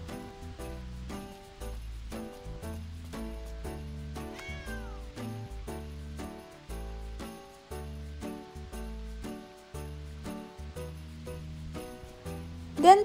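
A pet cat in the video game Revelation gives a single clear meow over steady, rhythmic background music, with no one speaking.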